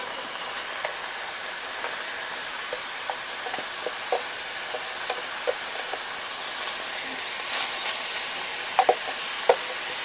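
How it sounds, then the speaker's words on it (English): Chopped peppers softening in a pan with leftover meat drippings for chili: a steady, quiet sizzle and hiss with occasional small pops and light stirring clicks, no talk. "we're going to soften those up in the same pan that we did our meat"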